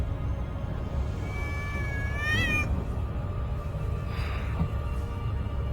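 A cat meows twice outdoors, a rising drawn-out call in the middle followed by a fainter, shorter meow, over steady background noise.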